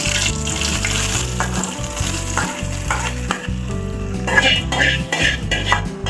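Tempering sizzles loudly and steadily in hot oil for garlic tomato chutney, a continuous close crackle with a few scraping utensil sounds near the end.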